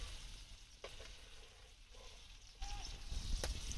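Fish fries in oil over a village wood stove, a faint soft sizzle with a few sharp clatters and rising background noise toward the end.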